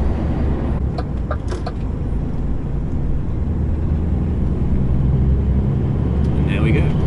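Steady low engine rumble and road roar inside a car driving a long road stint toward Glasgow, continuous and even throughout with no speech over it.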